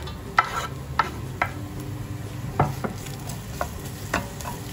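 Garlic sizzles gently as it fries in a hot pan alongside egg, with a few scraping stirs punctuating the steady frying hiss.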